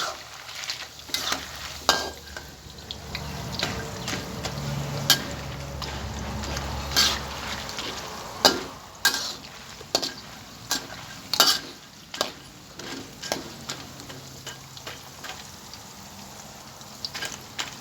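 Banana slices deep-frying in boiling oil for butter banana chips, with a steady bubbling sizzle, occasional stirring clinks and scrapes, and a short low murmur of voices at times.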